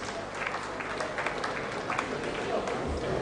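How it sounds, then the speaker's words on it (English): Distinguished guests at a Lagos Chamber of Commerce and Industry event give a round of applause, a steady dense clatter of clapping at moderate distance filling the short stretch. "A round of applause once again, distinguished guests."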